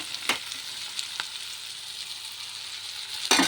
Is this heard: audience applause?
no